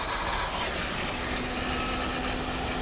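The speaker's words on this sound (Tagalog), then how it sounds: "Kaya nating paganahin yung fan motor na to sa pamamagitan nitong actuation test." A car's electric radiator fan motor runs steadily, switched on by a scanner actuation test, giving a constant broadband whir with a faint steady hum, close and continuous throughout.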